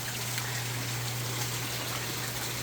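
Heavy rain pouring on a Southern California property during a storm, a steady hiss of dense drops and running water with a constant low hum underneath, continuous and even with no voices.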